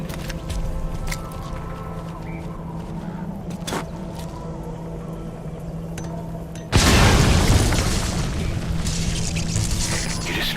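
An anti-air radar blows up in the Metal Gear Solid V video game as a sudden loud explosion bursts in after a stretch of low ambient hum and clicks, then roars on as a sustained rumble.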